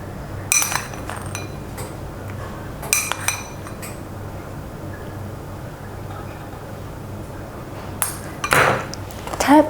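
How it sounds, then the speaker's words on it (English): A banana walnut cake tin tapped against a countertop, a few sharp metallic clinks in small clusters separated by quiet gaps, close and clear. "Tap the cake a few times."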